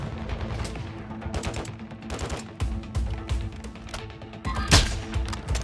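Rapid bursts of automatic gunfire crackle through a Call of Duty DMZ firefight, with sharp shots scattered across the clip and a heavier, louder blast near the end, all fairly close against constant battle noise.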